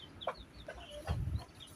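A black hen in a backyard poultry enclosure clucks softly in a few short, quiet calls, close by with no talk over it.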